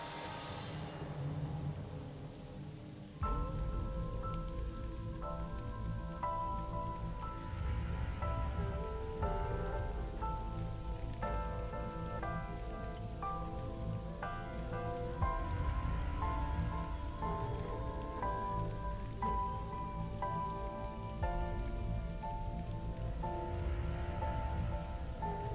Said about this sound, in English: It seems to be raining heavily.